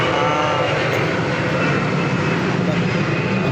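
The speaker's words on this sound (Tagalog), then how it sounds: "Ano ba yung aeroplano yan? Maingay?" A propeller airplane flies overhead, a loud, steady broadband engine roar that fills the whole clip with a slight swell, heard near and continuous from start to finish.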